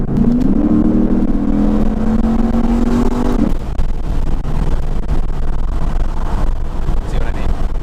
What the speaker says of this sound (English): The exhaust is just beautiful.